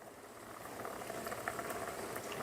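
Water swirls in a whirlpool inside a Presto Dorothy rapid cold brewer, a soft, continuous bubbling churn heard close but quiet, with no voices.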